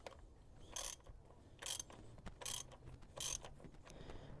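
A ratchet turns a 15/16 socket during an oil change on a fifth-generation Camaro, giving a few quiet, close clicking bursts spaced about a second apart over faint background noise.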